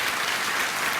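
Studio audience applause on a TV talk show, a brief, even burst of many hands clapping at moderate level with no talk over it.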